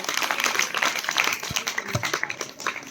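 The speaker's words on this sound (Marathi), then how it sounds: "जोरदार टाळ्या वाजवून तिचं स्वागत करायचंय" Applause for a schoolgirl prize winner at a Sant Sevalal Maharaj Jayanti competition prize distribution ceremony, a steady wash of clapping from a gathered audience lasting about three seconds with a couple of low thumps.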